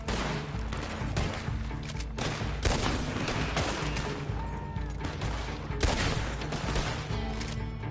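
Gunfire in Red Dead Redemption 2 comes as dense bursts of repeated shots, loud and close, with sharp cracks standing out over a constant rumbling din.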